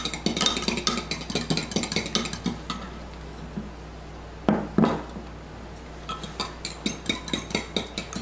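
Oil and butter being mixed in a bowl for cornbread, with a spoon or whisk clinking and scraping against the dish in close bursts, a short pause, then more rhythmic stirring and tapping.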